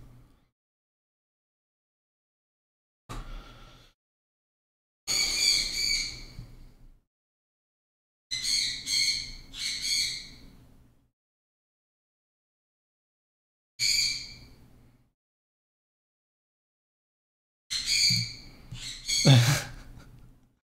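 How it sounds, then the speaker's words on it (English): Bursts of shrill squawking and screeching from pet birds come in irregular clusters, loud and nearby, separated by silent gaps. "My birds. You hear that?"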